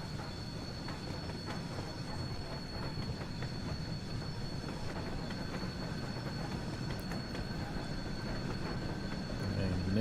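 Steam train carriages rolling downhill in Train Sim World 2, a steady low rumble of wheels on rails with a faint high squeal, constant and gradually building.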